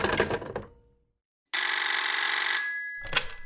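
A telephone bell rings loudly and close in one sustained burst of about a second, set between a short clatter and a later sharp knock, with no talking.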